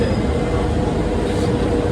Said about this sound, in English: So this is our first double-decker train in Paris.